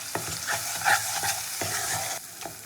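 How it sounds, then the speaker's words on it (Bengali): Spice masala fries in a pan with spiced water for a Bengali mixed vegetable poch curry, a close, steady sizzle broken by repeated scraping strokes of a spatula stirring in a loose rhythm. "এবার সব উপকরণগুলো খুব ভালো করে কষিয়ে নেবো"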